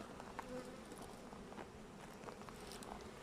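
Honeybees at a beehive being checked in winter, a faint, steady buzzing hum with small soft taps and rustles, quiet and close.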